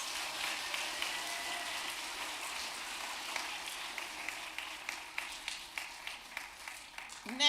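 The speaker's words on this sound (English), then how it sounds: "Let's give them another round of applause." A congregation gives graduating students another round of applause in a church, steady dense clapping like patter that holds evenly and then breaks into sparser separate claps near the end.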